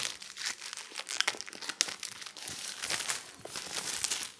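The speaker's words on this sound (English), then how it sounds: "Get this plastic off of here." Plastic wrap crinkling and tearing as it is pulled off the packaging of Soundcore Life Q35 headphones, a close, continuous run of crisp rustles and sharp crackles with no talk.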